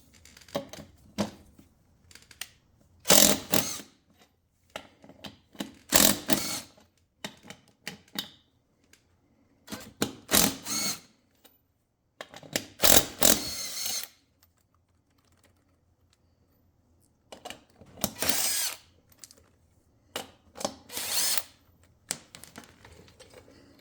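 A power tool zips off the 17 mm wheel nuts of a 2003 LTZ/KFX 400 quad in short, loud, harsh bursts of about a second each, spaced by quiet gaps as it moves from nut to nut.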